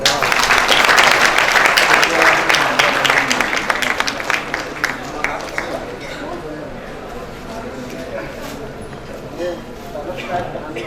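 Audience applause at a provincial official-language commission convention in Chhattisgarh, a dense burst of clapping that is loudest at the start and gradually thins and fades over about eleven seconds.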